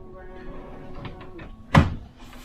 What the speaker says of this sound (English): Quite a few drawers here.